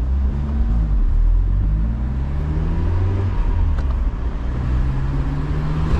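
A Mazda Miata MX5 engine hums in a low, steady rumble from inside the car as it accelerates, a constant loud drone with rising engine tones and no talk over it.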